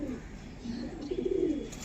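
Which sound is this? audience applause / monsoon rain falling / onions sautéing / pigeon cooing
pigeon cooing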